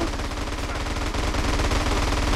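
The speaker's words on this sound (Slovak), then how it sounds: "To kto po mne strieľa?" Rapid automatic gunfire in GTA San Andreas Multiplayer rattles continuously, loud and close, with dense overlapping shots and no pause.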